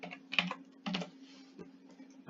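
Keys on a computer keyboard are tapped in short uneven bursts while a word goes into a search bar, close and clear over a low steady hum.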